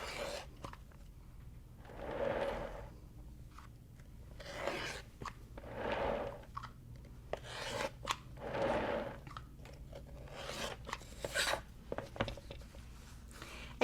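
Quilt fabric pieces being trimmed on a rotating cutting mat: a few soft, scraping cutting strokes come at spaced intervals, close and fairly quiet, with no talking.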